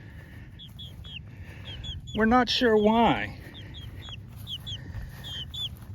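A small chicken of a different breed from its flockmates clucks nearby with short, bright, repeated calls, while a louder, longer call sounds in the middle and a person speaks briefly.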